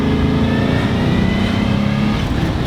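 A 1967 Shelby GT500, a restored barn find, accelerates hard on the road. Its engine gives a loud, continuous roar and climbs steadily in pitch for the whole stretch, with no voices heard.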